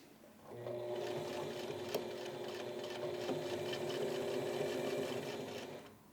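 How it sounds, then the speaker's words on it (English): A sewing machine top stitches a seam on a button-up shirt with a band collar, running as a steady, close, even hum and rapid needle chatter for about five seconds before stopping, without talk. "And now finally, I can go ahead and top stitch that down."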